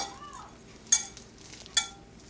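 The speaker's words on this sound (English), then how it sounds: "now we want to stir this in like so and get it melted" Shea butter salve ingredients are stirred in a pot to melt. A faint, soft scraping runs under two sharp utensil clinks against the pot, with quiet stretches between them.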